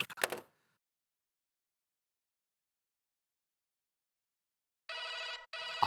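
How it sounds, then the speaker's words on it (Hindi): A landline telephone rings in a quiet indoor setting: two short electronic ring bursts close together near the end. A brief sharp noise comes first, followed by near silence. "फोन बज रहा है"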